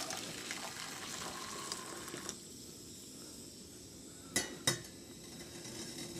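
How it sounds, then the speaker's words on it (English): Water splashes and trickles into a bowl of Japanese MRE miso soup for a couple of seconds, followed by two sharp clinks of dishware against a quiet kitchen background. "We're gonna add some more water to that."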